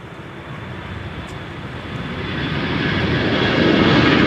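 Aer Lingus heavy jet airliner taxiing at Minneapolis–St. Paul airport toward runway 30 left, its engines producing a steady, broad roar that swells louder as it draws nearer, with no voices over it.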